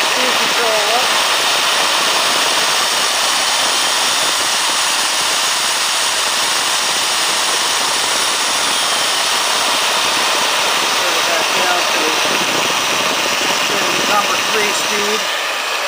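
Milwaukee 4206 magnetic base drill running at slow speed, a loud steady motor roar and whir that stays constant throughout, with a voice occasionally talking over it.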